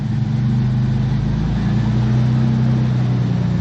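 A Toyota Supra with a twin-turbo six-speed setup and a new harness revs steadily, a loud, close, continuous engine drone with strong low rumble held for a few seconds without talk.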